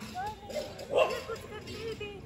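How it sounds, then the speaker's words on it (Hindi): Dogs bark a few times in the distance, faint and partly masked by people talking over them. "वहां हमारे डॉग्स भौंक रहे हैं दूसरे वाले"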